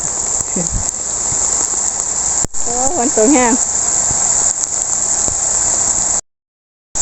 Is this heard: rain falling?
yes